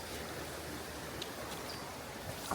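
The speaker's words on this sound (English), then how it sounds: "listen to the sounds of water. A babbling brook." A babbling brook along the Roaring Fork Motor Nature Trail in Gatlinburg, Tennessee, a steady close wash of rushing water over rocks, continuous and even throughout with no voices.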